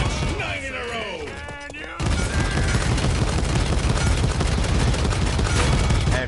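Automatic weapon gunfire in a champion-based shooter video game, a dense, loud stream of rapid shots that starts abruptly after about two seconds of quieter game sounds and continues without pause to the end.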